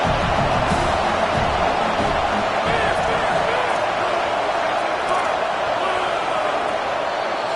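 A dense stadium crowd roars steadily during a USC college football game on a fourth-down defensive stand. The loud, continuous wash of noise is unbroken, and speech is mixed into it.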